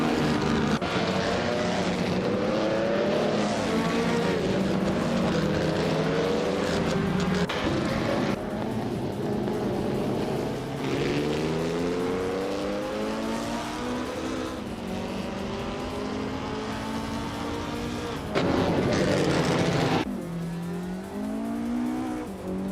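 Several 1955 Gordini T32 racing cars and a mid-pack field howl through a video game race, engines revving up and down through gear changes in a loud, continuous drone.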